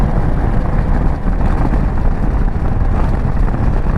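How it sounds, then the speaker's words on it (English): A 2025 Indian Super Scout motorcycle is ridden at moderate throttle, giving a steady, fairly quiet and smooth engine rumble mixed with road and wind noise that stays constant throughout. "This bike's so quiet and smooth right now after me having louder exhaust."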